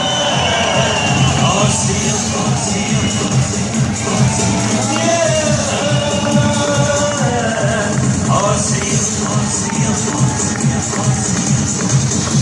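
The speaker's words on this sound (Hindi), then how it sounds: "बिल्कुल जोरदार तालियां, जोरदार माहौल और जोरदार म्यूजिक चले" A large crowd cheers and applauds at a packed network marketing event, a dense, continuous roar with babble and loud music throughout.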